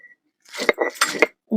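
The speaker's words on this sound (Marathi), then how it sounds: "मिरची घालून मीठ घालून आपली मिरची चांगली बारीक वाटून घेते" Green chillies crushed with salt into a paste, heard as a few quick grinding and clinking strokes of stone or utensil, close and short, with a short pause between bursts.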